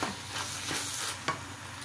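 Chicken musakkan being stirred in a hot pan, a close spoon scraping through the sizzling mixture in a few uneven strokes over a steady fry.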